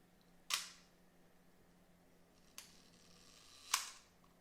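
Three crisp mechanical shutter clicks from a Leica IIIg camera firing one-second exposures, spaced about a second or two apart, sharp and close in an otherwise quiet room.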